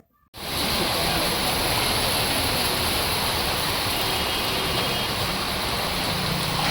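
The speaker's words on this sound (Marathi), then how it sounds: "अहमदनगर जिल्ह्यातील कर्जत येथे जोरदार पावसाने हजेरी लावली आहे" Heavy monsoon rain pours down on a flooded main road in Karjat, Ahmednagar district, a dense, steady roar of falling water that starts abruptly and stays loud and unbroken throughout.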